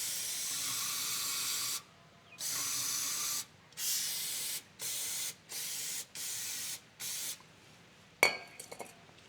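Brake cleaner hisses from an aerosol can into an old diesel engine that has sat unused for 30 years: one long spray, then several short bursts, ending with a metallic clink.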